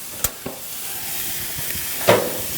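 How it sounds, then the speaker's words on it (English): Steaks searing in a pan give a steady, close frying hiss throughout, broken by a few sharp clicks and scrapes as they are handled. "now that we've been searing it for a little bit, let's go ahead and let's flip them"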